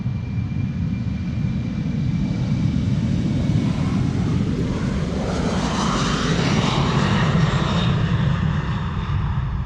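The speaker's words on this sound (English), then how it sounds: "BA City Flyer flight 8452 to London City, Embraer 190." An Embraer 190 regional jet of BA CityFlyer departs Amsterdam Schiphol Airport, its engine roar steady and loud throughout, a broad rumble with a slowly building higher whine toward the end.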